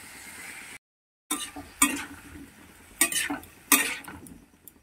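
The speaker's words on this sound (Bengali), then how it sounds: "এগুলোকে ভালো করে কষিয়ে নেব মশলার সঙ্গে।" Cauliflower and potato sautéing with spices in a pan, a close sizzle punctuated by a few loud bursts of stirring and scraping with a metal spoon, after a brief silent gap, with no voices.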